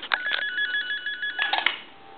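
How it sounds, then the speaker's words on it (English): The piezo electronic ringer of a candlestick telephone under repair trills in a rapid warbling pattern, two short bursts of ringing close up, then fades to quiet hum. "the audio of the piezo buzzer, the ringer,"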